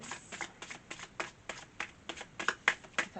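Tarot cards being shuffled close up, a steady run of soft papery riffles and taps at a quick rhythm, with no voices.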